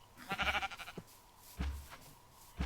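A cow in the video game Minecraft gives a short, wavering moo, followed by a few soft, dull in-game thumps and footsteps at low volume.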